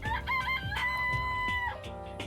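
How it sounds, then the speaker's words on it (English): Chicken sound effect from the video game DanganRonpa: a loud, close rooster crow, one drawn-out cock-a-doodle-doo with a rising and sustained call, heard alone. "It's a chicken."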